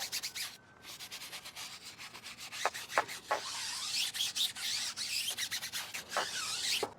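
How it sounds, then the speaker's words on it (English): A brush scrubs silicone residue off the tire of a 2014 Subaru, giving close, rhythmic bristly rubbing strokes in repeated bursts with brief pauses and no voices. "Get your brush, brush it in."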